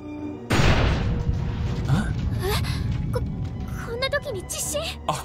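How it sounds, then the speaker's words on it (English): An earthquake in the Digimon Survive video game hits with a sudden heavy rumble that stays loud and continuous for several seconds, while game voices and sound effects play over it. "We gotta add an earthquake into all of this?"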